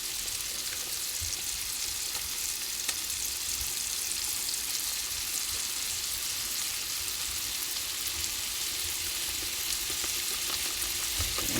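Venison tenderloin steaks sear hard in a hot pan with a steady, close, dense sizzle that holds evenly throughout, with no voices over it.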